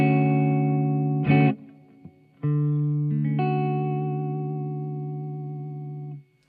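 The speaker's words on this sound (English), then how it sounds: "So now we're running through the phaser, which sounds like this." Electric guitar played through a Dreadbox Euphoria eurorack phaser, heard as sustained, ringing chords and notes with a few sharp attacks and swelling tones before fading out, with no talking.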